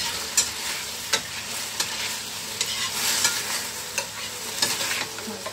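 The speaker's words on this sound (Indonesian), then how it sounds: "Masak udang sama lobok sama nanas." Shrimp stir-fried with chili and pineapple in a pan: a constant close sizzle of frying with periodic sharp scrapes and clanks of the spatula stirring against the pan, no talking.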